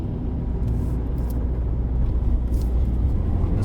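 A Proton X70 AWD SUV overtakes on the Genting road, heard from inside as a steady low engine and road rumble that builds slightly under acceleration, with no talking.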